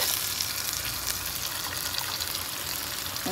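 Chicken sautéing in a pan on the stove, a steady, continuous sizzle with a soft bubbling texture and no talking.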